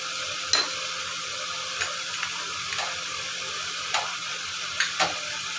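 Spices for a fish curry, including Kashmiri chili powder, sizzle steadily in a hot pan while a spoon stirs, giving a continuous frying hiss punctuated by several light taps and scrapes.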